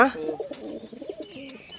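Pigeons coo at a pigeon farm, with soft, repeated throaty calls and a brief bird chirp in the background, all fairly close.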